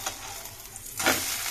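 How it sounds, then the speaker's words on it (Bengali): A semolina breakfast snack frying in oil in a pan, a soft background sizzle that swells into a brief louder burst of crackling and stirring about two-thirds of the way through, with no voices. "তেল দিয়ে একটু ভেজে নেব 1 পিঠ"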